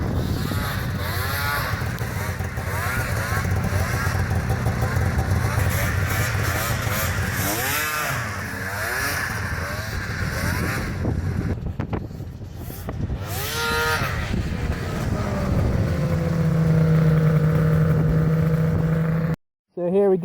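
An Arctic Cat Thundercat 1000 snowmobile with a 144-inch track runs in the snow, its engine droning loud and close with rising and falling revs, cutting out briefly near the end.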